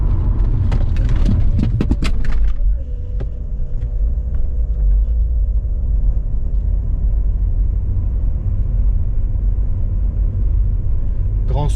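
Audi S6 car driving during a brake test, a steady low engine and road rumble throughout, with a burst of sharp clatter near the start and a brief voice.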